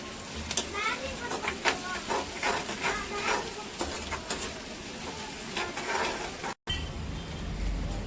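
Onions and curry leaves frying in a pan, a steady crackling sizzle with scraping stirs, under someone speaking Tamil throughout.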